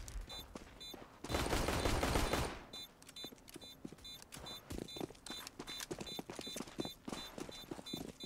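In a shooter video game, bursts of gunfire ring out: a dense, loud volley of rapid shots, then scattered single and clustered shots with faint repeating electronic beeps behind them.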